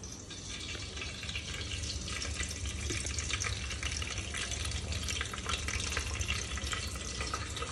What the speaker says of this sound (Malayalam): ഓയിൽ ഒഴിച്ചതിന് ശേഷം കറിവേപ്പിലാണ് ഞങ്ങൾ ഫസ്റ്റ് തന്നെ ഇട്ട് കൊടുക്കുന്നത്